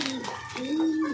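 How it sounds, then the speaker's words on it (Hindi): A pigeon coos nearby, a short soft throaty call with a rising and falling tone. "कबूतर सारे मेरा इंतज़ार कर रहे हैं।"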